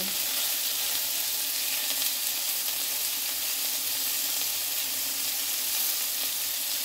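Satay chicken skewers fry in a pan with a steady, dense sizzle of hot oil that stays constant throughout, close and alone with no talk.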